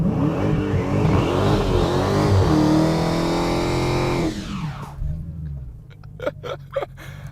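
A Dodge Challenger SRT Hellcat roars at high revs while warming its tires with line lock, a loud sustained engine howl that drops away sharply, followed by a few short revving blips and bursts of noise.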